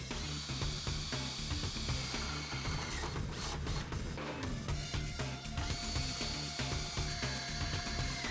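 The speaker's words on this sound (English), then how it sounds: "go ahead and drill them using either an 11/32 inch drill bit or a 3/8 inch drill bit" A power drill with an 11/32 or 3/8 inch bit bores holes through a metal pannier rack brace on a Kawasaki KLR650, a steady grinding whine running without a break at moderate volume.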